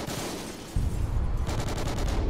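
Rapid gunfire in a shooter video game, a player firing through walls, as a dense burst of close shots that grows heavier midway and keeps going to the end.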